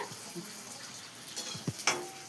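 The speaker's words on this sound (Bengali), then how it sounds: "বোন ফুচকার দায়িত্বটা নিয়েছে, তাই ও ফুচকাটা ভাজছে" Fuchka (puchka) puffs fry in hot oil with a soft, steady sizzle and a few faint pops and clinks, heard quietly and close.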